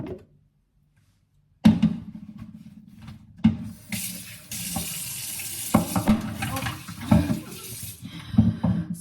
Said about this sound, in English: I'll just put them in the sink, and I'll show you how I wash.